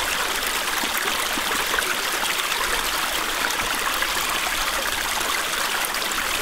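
Water rushes steadily into a ram pump supply line sunk in a small pool, a continuous close, even gush and trickle with no break for the whole stretch.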